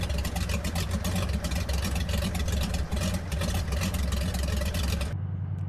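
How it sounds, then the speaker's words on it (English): The HCG Spartan 7W Executive's engine in Microsoft Flight Simulator, heard from outside the aircraft, drones loud and steady with a rough low rumble before cutting off abruptly near the end. "this is what the engine sounds like on the outside."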